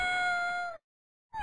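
A cat meow sound effect plays as a long, steady, high-pitched call, then cuts off abruptly. A brief silence follows before a second meow begins. The sound is clear and close.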